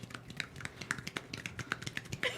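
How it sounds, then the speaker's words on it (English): Finger snaps standing in for a one-handed clap during a live tabletop Dungeons & Dragons session: about a dozen crisp, close snaps in a quick, slightly uneven rhythm, with no other sound between them. "this is how to clap one-handed"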